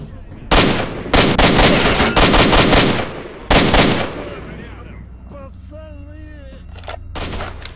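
Gunfire erupts in S.T.A.L.K.E.R. Shadow of Chernobyl, with loud, close bursts of automatic fire in several volleys, then a quieter pause filled with warbling tones before more shots return at the end.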